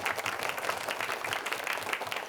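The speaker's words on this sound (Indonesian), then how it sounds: "Tepuk tangan untuk kita semua." Studio audience clapping on a televised quiz competition set, a brisk steady patter of many hands, moderately loud and continuous throughout with no talk over it.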